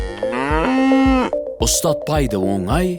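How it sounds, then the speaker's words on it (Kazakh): A cow gives a loud, close, drawn-out moo at the start of a children's rhyme about animal sounds, followed by a sung voice over a musical backing. "мөңірейді сиыр"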